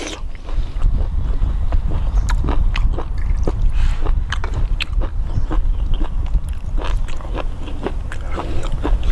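Crunchy crispy food being bitten and chewed close up, a Thai dish of crispy fried fish with chili dipping sauce, with sharp irregular crackling crunches repeating steadily over a low rumbling background.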